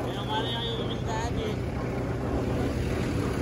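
A tractor engine drones steadily on the road with a low rumble and wind buffeting the microphone, while people talk over it.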